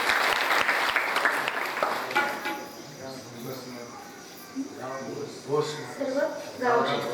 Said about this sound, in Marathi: एकदा हरिभक्तप्रेम हेमंत महाराजांसाठी जोरदार टाळ्या वाजवा.